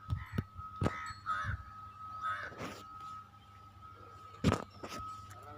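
Crows caw in scattered, harsh calls at irregular intervals, some nearer and louder, against a steady electrical hum from a cut, sparking power line.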